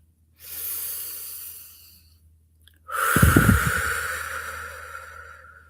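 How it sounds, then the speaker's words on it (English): Two slow, deep breaths sound close and audible: a soft inhale through the nose, a pause, then a longer, stronger exhale through the mouth, with no talking. "Breathing in through your nose, out through your mouth."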